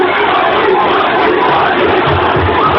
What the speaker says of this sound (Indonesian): Dengar riuh penonton memberikan dukungan